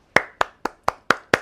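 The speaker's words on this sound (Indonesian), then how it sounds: "Tepuk tangan dulu dong untuk mengapresiasi kita semua." Six sharp, evenly spaced hand claps sound close and clear in a quiet room, with a steady rhythm of roughly four claps in under a second and a half.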